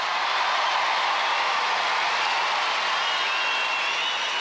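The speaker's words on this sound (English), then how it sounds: "a big round of applause for Shane and James" Dense, sustained studio audience applause on an Australian Gladiators television show, a loud, even wash of many clapping hands with no break across the stretch and no voices above it.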